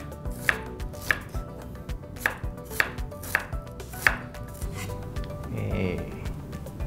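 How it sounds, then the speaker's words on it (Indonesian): A knife cuts an onion into thin slices on a cutting board with about six sharp, evenly spaced chops, close and clear, followed by a softer scraping sound. "Kita akan iris-iris tipis untuk bawang bombaynya."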